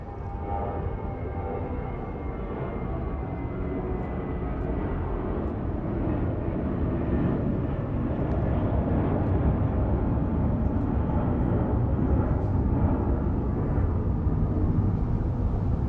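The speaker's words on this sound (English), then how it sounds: "we have United 1395 headed to Seattle on an A320" United A320 airliner departing Los Angeles for Seattle, a sustained low engine rumble that builds gradually and stays strong and steady throughout, heard from a moderate distance.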